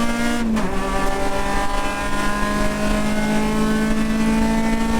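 USTCC touring race car at the start of a 2021 round in Las Vegas, its engine droning loud and steady in-car, with a brief pitch dip early on before holding a constant whining tone.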